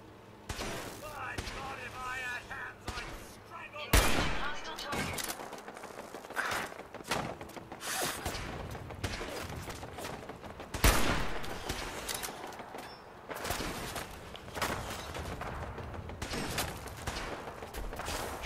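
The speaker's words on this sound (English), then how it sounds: "They're shooting at Ada," Gunfire in the video game Fallout 4, with repeated sharp shots and bursts scattered over a continuous game soundscape, plus some speech mixed in.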